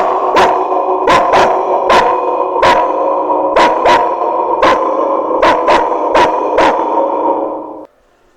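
A voice imitates an Alsatian dog barking, a loud close run of about a dozen sharp, gruff barks in uneven bursts and pairs, ending abruptly into silence.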